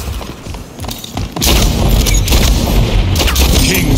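Gunfire in the video game Splitgate, a busy, loud stretch of booming shots and mechanical clatter that becomes a dense continuous barrage, close up and steady after a short quieter start.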